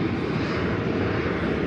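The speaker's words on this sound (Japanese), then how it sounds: "飛行機来ました。" A fixed-wing airplane passes overhead at a quiet roadside touring spot, its engine making a steady, even broadband roar that holds throughout with no talking.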